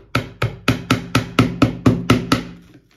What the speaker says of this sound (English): we will hit it a little bit with a hammer